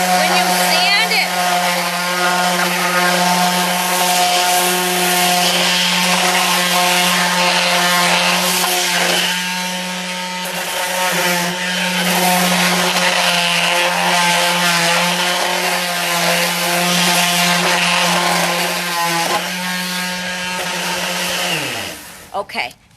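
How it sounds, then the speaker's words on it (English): A power sander works a wooden desk with a loud, steady motor whine and a grinding buzz that holds for the whole stretch, dips briefly midway, and winds down at the end. "when you're sanding, right here, you want to sand and then sand the edge a little bit"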